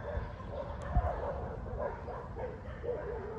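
Dogs barking and yipping in the background of an outdoor BMX practice session, a steady mid-distance chorus of short barks over wind and ambient noise.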